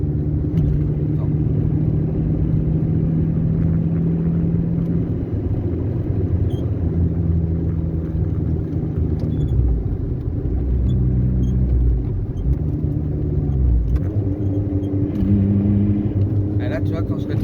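A VW Golf 3 TD diesel engine rumbles steadily and close by for the whole stretch, its low drone shifting pitch as it downshifts and accelerates high in the revs.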